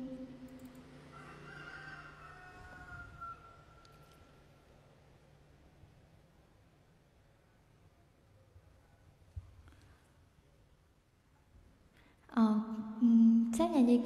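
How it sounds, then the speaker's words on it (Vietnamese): A neighbor's rooster lets out a loud, strained crow near the end after a long, quiet stretch of faint background noise and softer distant calls. No one talks over the crow. "trưa cũng gáy, chiều cũng gáy"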